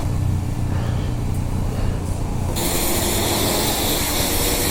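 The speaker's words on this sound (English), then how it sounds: "push it along while I spray the wheel" Steady hissing spray of water hitting a Honda VFR800 motorcycle wheel, growing louder and brighter partway through, with mechanical noise underneath.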